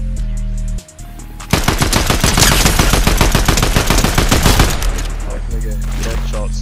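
Loud, rapid automatic gunfire in the video game Fortnite, a dense burst of shots lasting several seconds over steady game background sound, with no speech.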